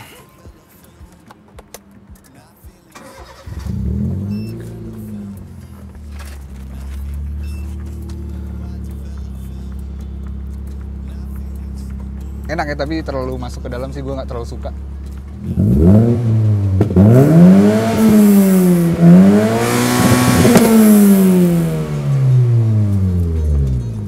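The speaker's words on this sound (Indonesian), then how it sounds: "Gue akan cobain dengerin suara knalpotnya." A modified first-generation Honda Brio's exhaust drones at a steady idle, then barks through a burst of repeated loud revs, while someone talks over it.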